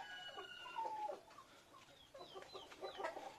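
Chickens cluck in short, quiet bursts with a few higher squawks, all faint and distant, with no talking.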